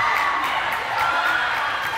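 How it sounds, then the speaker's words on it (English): At a high school Region 2 AAA semifinal basketball game, a gym crowd cheers and roars steadily after a made three-pointer. The noise is a continuous, moderately loud wash of voices, with no single voice standing out. "And the crowd goes wild for the young Rashawn Jackson"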